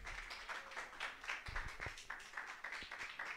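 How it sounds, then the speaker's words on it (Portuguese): Church congregation clapping hands in praise during a worship service, a faint, steady patter of scattered claps at a distance, with no talking. "A igreja pode se assentar louvando o Senhor com as palmas."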